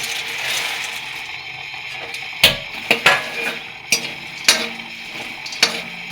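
Makhana (fox nuts) frying in hot ghee, a soft steady sizzle with several sharp clinks and taps of a utensil against the pan, close and fairly loud.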